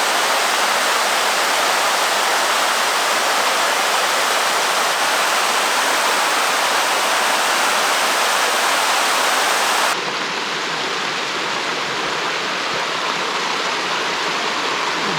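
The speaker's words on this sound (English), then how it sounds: "and a pretty cool waterfall over here." Loud, continuous rush of a waterfall and mountain stream on a wilderness pass in the Chiricahua Mountains, steady broadband water noise that drops slightly in level partway through, with no voices.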